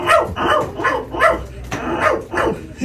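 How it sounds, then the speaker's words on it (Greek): A dog at a mountain sheepfold barks and growls repeatedly and loudly up close, the gruff barks coming in a quick, uneven series with rumbling growls between them. "Είσαι καλό σκυλάκι, μωρέ."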